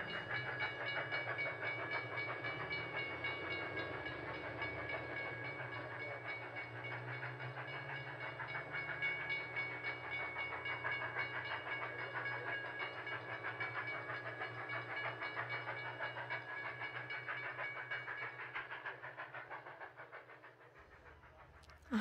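A steam-style Polar Express train sound effect runs steadily on the tracks at a school Christmas performance, a continuous rumbling rattle that holds loud and even for the whole stretch before easing slightly at the end.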